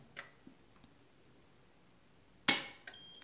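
A residual current device trips during a professional test at 16.5 mA in 20 ms, giving one loud, sharp snap late in an otherwise quiet stretch with a few faint ticks before it.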